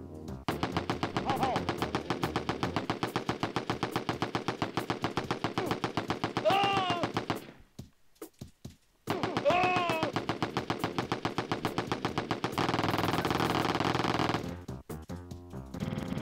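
In the SNES game Wolfenstein 3D, a flamethrower-rocket weapon fires in rapid, loud repeated bursts, a dense rattling stream broken by a brief pause and a change in tone near the end, with no voices.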